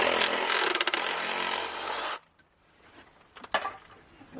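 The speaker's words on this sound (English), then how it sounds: "Take a Sawzall." A Sawzall reciprocating saw cutting off a plumbing coupler, a loud rough buzzing rasp for about two seconds that stops abruptly, followed by faint clatter and handling sounds.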